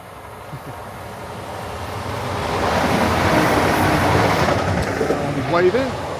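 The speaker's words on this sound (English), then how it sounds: "Class 222, East Midlands Rail Meridian, going from St Pancras to Sheffield" East Midlands Rail Class 222 Meridian diesel unit passing through a station on a St Pancras to Sheffield run, a loud rising roar and rumble that peaks midway and holds as it goes by, with a voice talking over it.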